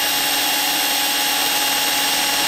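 A drill bores through the wing tube of a model jet with a steady high whine, loud and close, holding even throughout.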